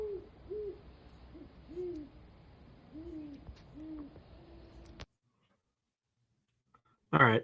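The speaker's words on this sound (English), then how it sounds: "That's if you've never heard a great horned owl," Two great horned owls call back and forth outdoors, a series of deep, soft rhythmic hoots spaced a second or so apart, then a pause and a brief sharp sound at the end.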